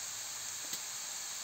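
A steady, quiet sizzling hiss of onions frying in hot oil in a pan continues without a break.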